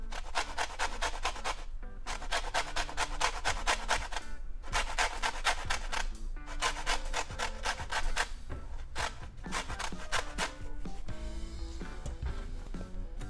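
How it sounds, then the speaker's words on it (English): A lemon is zested over pasta with pesto in close, quick rasping strokes, grouped into several bursts separated by short pauses. "And then we're gonna add also some lemon zest"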